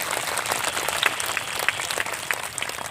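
An audience claps in a steady, fairly dense wash of applause at a Sarna religion code gathering in Ranchi, heard from a middle distance with no clear talking over it.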